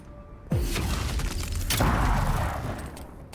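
Gunfire in the fantasy RPG Avowed, a sudden loud blast followed by a second heavy shot and crackling debris, sustained and close, with no talk.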